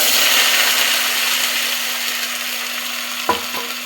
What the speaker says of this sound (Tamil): இப்போ இந்த சின்ன வெங்காயம் நல்லா வதக்கணும்.